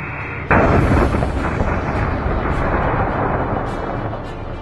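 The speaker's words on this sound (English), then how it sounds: "The XOMG is perfect for simulating powerful explosions involving vehicle" An XOMG oxygen-propane battlefield blast simulator goes off in one loud, sudden explosion. A long, roaring broadband rumble follows and slowly fades.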